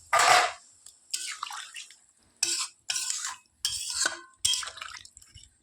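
Hot water poured into a fish curry cooking in a pan over a clay oven, heard as about six short bursts of splashing and sizzling separated by brief pauses.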